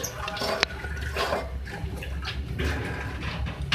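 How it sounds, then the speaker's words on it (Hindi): Water gurgles and splashes steadily into a cooking pot while making beef keema with lauki, a continuous rushing pour with a few brief clinks, fairly close. "इसमें पानी ऐड कर रही हूँ।"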